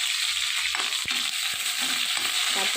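Onions sizzling in hot oil in a pan over a high flame, a steady broadband frying hiss with faint clicks and stirring knocks throughout, close up and alone.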